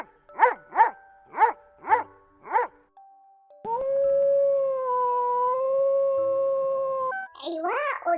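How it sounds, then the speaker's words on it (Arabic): A dog barks five times in a quick, even rhythm, close and loud. After a short gap, a long, steady, tonal howl follows. "نباح الكلب"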